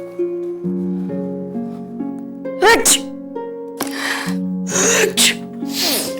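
A woman sneezes a few times in a domestic scene, with sharp bursts breaking over soft held music tones in the background.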